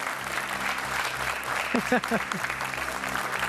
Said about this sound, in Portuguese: Um aplauso para o pequeno Zé Maria